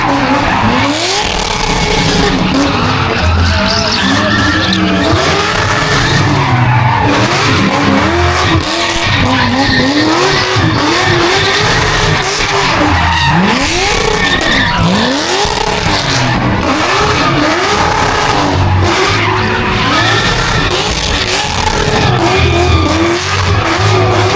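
Corvette C6 doing stunt driving in Southern California, loud continuous engine revving with repeated rising and falling pitch sweeps and tire skids, close and sustained throughout.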